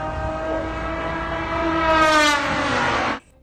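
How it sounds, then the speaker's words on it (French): A cheap plywood and composite drone with a moped-like engine flies over Ukraine during a Russian attack, making a loud, steady buzzing drone that swells and rises slightly in pitch before cutting off abruptly. "Un drone bon marché en contreplaqué et matériaux composites équipé d'un moteur similaire à celui d'un cyclomoteur"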